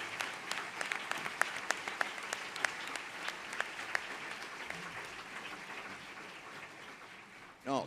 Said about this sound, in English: I must say that you heard your round of applause